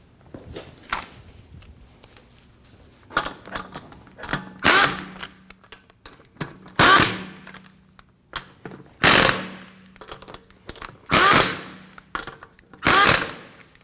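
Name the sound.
power tool snugging down wheel lug nuts on Honda Pilot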